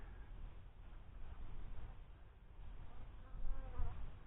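Honey bees buzz quietly at a beehive entrance in November, a soft continuous hum with a few closer passes near the end.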